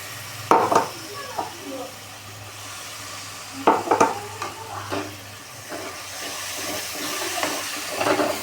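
A spoon stirs tomato gravy into drumstick curry frying in oil, with intermittent scraping clinks against the pot over a low simmering sizzle and a faint steady hum.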